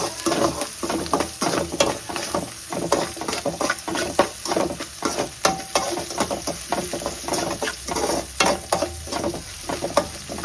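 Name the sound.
onions sautéing with salt in a pan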